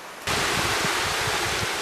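After a brief quiet moment, a waterfall and rushing water on a canyon trail swell in suddenly and hold as a loud, steady broadband roar with faint low splashing pulses, no voices.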